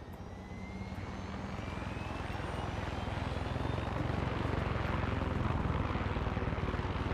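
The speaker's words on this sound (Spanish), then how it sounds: "Nos vamos en helicóptero potente para allá." A helicopter in the video game Far Cry 6: a continuous, dense rotor and engine roar that builds slightly in loudness and holds steady for several seconds, with no talk over it.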